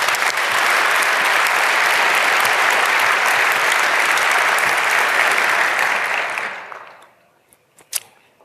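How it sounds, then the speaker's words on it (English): Warm round of audience applause for a speaker at a talk at 33c3, a dense, loud, sustained clapping that fades out over the last two seconds, leaving near silence with a couple of stray claps. "So please give Tim a warm round of applause again."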